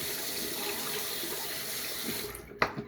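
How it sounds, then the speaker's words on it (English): Tap water runs steadily, rinsing a freshly shaved head over a sink. Close, even flow, then it ends with a couple of sharp splashes and drips. "Rinse the head, fill around, pick up on the trouble areas right here."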